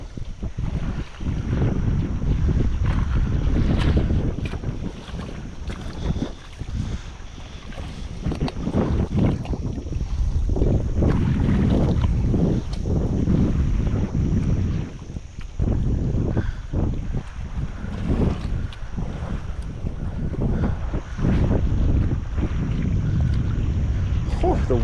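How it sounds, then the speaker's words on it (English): Strong wind buffets an outdoor fishing boat, roaring steadily and loudly into the microphone throughout, with faint movement noises mixed in. "The wind just took that."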